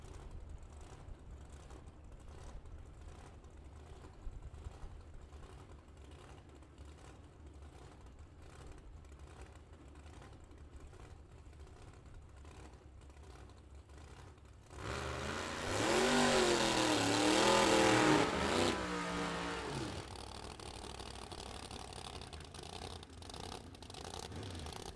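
A Monte Carlo Top Sportsman drag car rumbles low at the line, then roars into a loud, rising launch down the strip for several seconds before the engine noise trails off into the distance.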